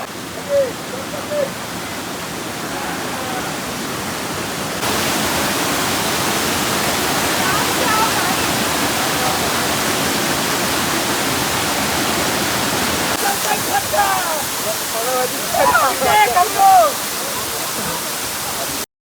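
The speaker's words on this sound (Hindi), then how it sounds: "पानी के आवाज़ सुना रहा है और ये पहाड़ के बीच सब एक अलगे मजा छे" Mountain stream and waterfall at Sita Ghat, a steady broadband rush of flowing water filling the whole stretch, with a voice speaking briefly over it near the end.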